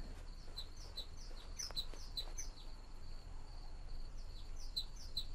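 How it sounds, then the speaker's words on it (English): Bird in the video game The War Z chirps in short, high, repeated tweets in irregular bursts over a faint, steady ambient hiss. "Shut up, you fucking bird!"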